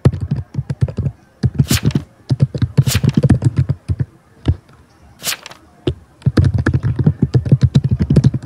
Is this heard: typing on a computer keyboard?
yes